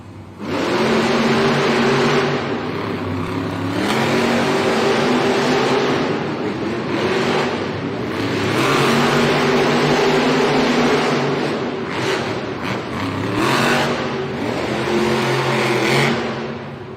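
Monster trucks race side by side at a Monster Jam arena event in Rosemont, Illinois, their engines roaring loud and continuous, swelling and easing in long revving waves without pause.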